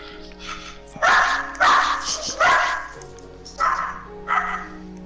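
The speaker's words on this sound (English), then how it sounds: "all the viewers can hear a dog scream" A dog in the Minecraft video game gives repeated short whining yelps, about five distinct bursts in an uneven rhythm, clear and close over a quiet background.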